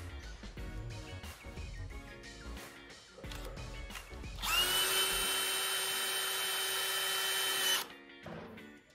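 Power drill fitted with a DeWALT DW2735 3-in-1 bit: clicks and handling knocks first, then a loud high whine running for about three seconds before it cuts off, followed by more light rattling.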